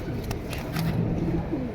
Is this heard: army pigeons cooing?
yes